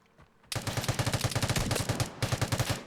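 Vigor video game gunfire: after a quiet half second, a long rapid burst of regular loud shots with a brief pause near the end, sounding more like automatic fire than single slow blasts.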